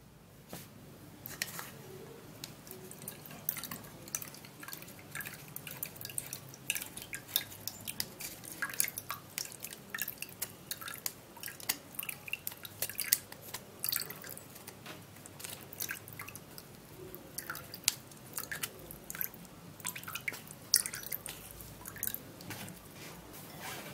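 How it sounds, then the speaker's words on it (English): Ginger drink is strained, with faint, irregular drips and small wet taps running quietly throughout at close range. "And then I'm gonna be straining everything out"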